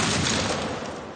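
A short, loud burst of rapid gunfire from a shootout scene in the film V for Vendetta, a dense crackling volley that fills the moment and tails off slightly, heard alone without speech.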